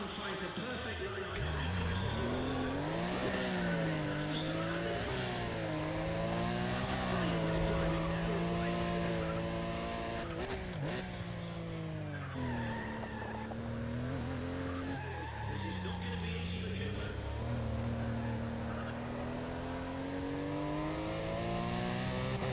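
A race car engine in NFS ProStreet roars continuously and loudly with rising and falling revs, tire skids and squeals, and a high turbo whine, with sharp shifts and brief drops in power, a dense uninterrupted mix without talking.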